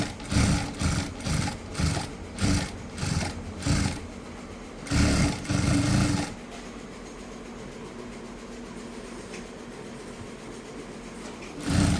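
A sewing machine stitches piping onto a cotton petticoat in quick repeated bursts of loud whirring, then stops, leaving a quiet stretch.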